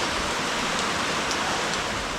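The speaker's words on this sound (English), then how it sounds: "It's still raining" Steady rain falls at an off-grid cabin, a dense, even hiss of drops pattering on surfaces with a few brighter splashes, continuous and fairly loud with no voices.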